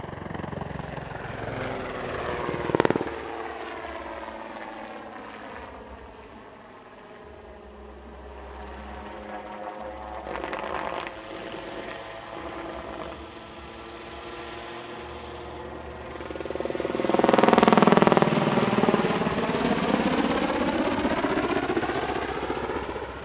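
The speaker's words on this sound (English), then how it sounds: "The aircraft now dives in for a flare dump to end its show." A display aircraft dives in for a flare dump to close its sunset airshow routine at Leszno, a loud continuous engine roar that swells and sweeps past with a sharp burst near the start and a strong surge toward the end.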